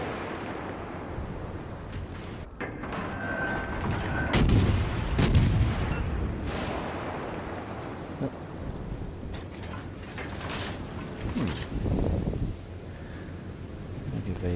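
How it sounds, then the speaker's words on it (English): Warship main guns firing high-explosive shells in World of Warships, heavy booming salvos landing among a steady wind-like roar, with several loud blasts clustered mid-way and a voice briefly present. "Let's see what its guns like. Pretty high trajectory by the look of it."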